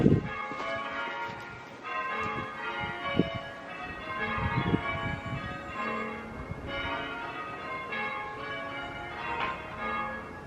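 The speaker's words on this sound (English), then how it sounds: "That's the church bells done." Church bells ring steadily in a continuous, overlapping peal, rich and resonant, heard outdoors at moderate distance with no voices.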